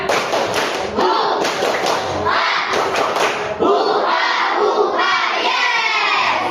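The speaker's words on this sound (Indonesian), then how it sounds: "ayo kita tepuk semangat dulu. Tepuk semangat." Children at an Islamic lesson perform the tepuk semangat spirit chant, a loud rhythmic run of group claps and thumps mixed with shouted chanting voices, close and continuous throughout.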